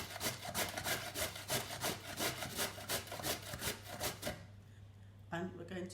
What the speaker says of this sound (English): First thing we need to do is grate the sweet potato.